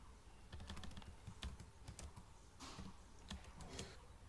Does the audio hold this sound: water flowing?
no